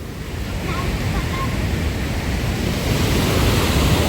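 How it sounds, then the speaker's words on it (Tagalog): Athabasca Falls roars in a heavy, continuous wash of falling water that swells slightly louder toward the end, with some wind buffeting the microphone. "Ang lakas pala ng bagsak dito. Falls din to, no?"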